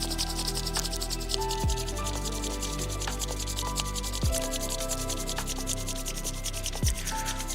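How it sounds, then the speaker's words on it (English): Hands are rubbed together briskly in a steady, continuous dry friction hiss that stays close and even throughout, with no talking. "briskly rub your hands like this."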